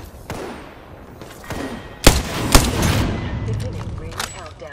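Gunfire during a fight at The Foundry in Apex Legends: a few sharp, loud shots with an especially heavy burst in the middle, over game background noise and a speaking voice.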